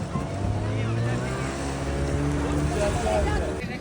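Motorboats run on the sea at Shivrajpur Beach in Dwarka, a steady droning engine hum blended with wind noise, while people talk over it close by.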